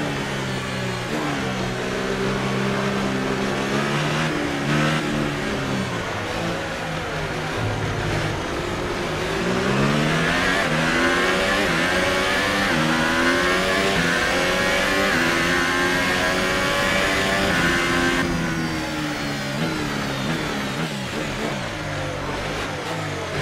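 A Formula One race car engine revs hard at the China Grand Prix, rising and falling pitch sweeps climbing through the gears, loud and close and continuous throughout with no talk.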